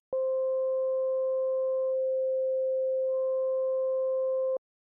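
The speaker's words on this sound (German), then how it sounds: "Beide Operatoren, der Modulator und der Carrier, liegen aktuell auf der exakt gleichen Frequenz und geben eine Sinuswellenform von sich" Steady sine-wave synth tone from two HALion 7 FM operators, modulator and carrier at the same frequency, holding one pitch alone for about four and a half seconds, with a faint upper partial fading out and back in midway.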